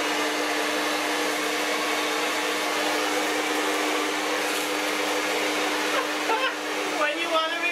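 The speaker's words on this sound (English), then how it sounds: "give me the blow dryer" A handheld blow dryer drying freshly bleached hair roars loud and steady throughout, with faint shuffling and handling noises near the end.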